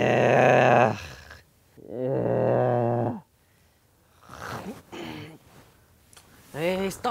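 A person overseas makes loud, drawn-out snoring-like groans close to the microphone, two long rasping breaths followed by shorter grunting bursts, likely a voice imitating snoring.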